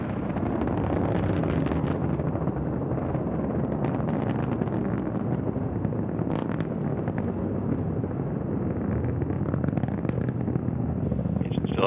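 Antares rocket liftoff carrying the SS Piers Sellers cargo spacecraft toward the International Space Station: a steady, dense roar of engine rumble and crackle that holds loud throughout, with a voice speaking over it.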